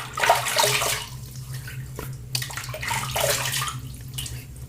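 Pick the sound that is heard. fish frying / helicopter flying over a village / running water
running water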